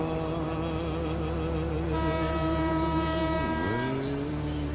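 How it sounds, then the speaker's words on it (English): An East Coast train pulling away from a station platform, a steady loud rumble and drone with a long horn-like tone that bends downward near the end. "That's the last train I'll ever dispatch in my life."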